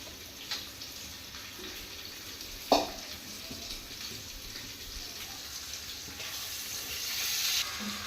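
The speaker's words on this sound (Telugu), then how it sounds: "రైస్కి సరిపడినంత ఆయిల్ పోసుకుందాం." Cooking oil poured into a pot for chicken mandi rice: a faint, continuous trickling stream with one small knock partway through, swelling slightly near the end.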